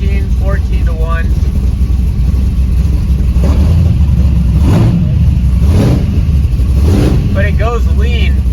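A Chevrolet C10 engine revs up as the gas is hit, a steady mid-pitched roar that swells and falls across the clip while people talk over it.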